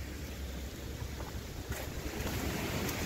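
A 45 ft roadside waterfall at Falling Springs in Pennsylvania roars in a steady, dense wash of rushing water, heard close and continuous with a little wind on the microphone.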